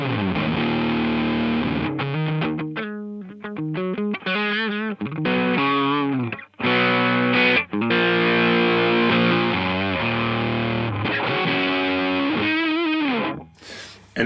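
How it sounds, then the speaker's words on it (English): An electric guitar plays through a Boss BE-5 multi-effects pedal with the distortion turned all the way up. Heavily driven chords and riffs come in bursts, with short gaps between phrases. "Let's just do distortion all the way."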